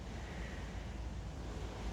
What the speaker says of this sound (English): let's concentrate on the sound of the water